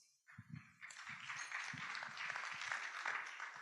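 Applause from a seminar audience in a hall, starting sparse with a few claps and quickly swelling into steady, dense clapping that holds at a moderate level throughout.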